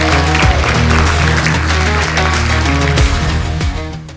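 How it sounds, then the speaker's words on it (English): An audience at the Social Economy Awards Gala applauds as Deputy Mayor Sharon Thompson comes on stage, with loud, dense clapping over strong stage music that fades toward the end. "Can we all join in applause to welcome her to this stage?"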